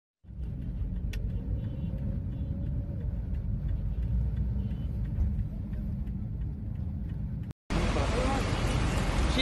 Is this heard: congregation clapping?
no